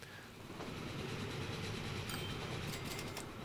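A train running in the video game Train Fever, heard as a steady rumbling rail roll with faint clicking, continuous and fairly loud throughout, with no voices.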